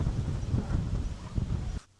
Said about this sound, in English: it's still extremely windy